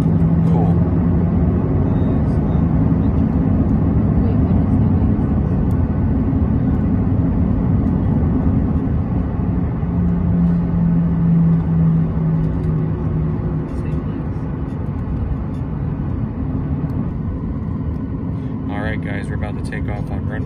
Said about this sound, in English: take off on runway 27 here out of CVG.